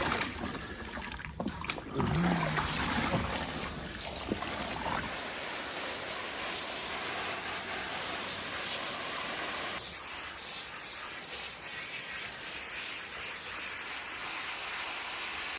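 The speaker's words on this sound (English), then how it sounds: "I'm gonna bring this outside and rinse it off" A bear skin being rinsed outdoors with water, a steady hissing spray of running water continuing throughout, with a brief louder handling clatter near the start and no talk.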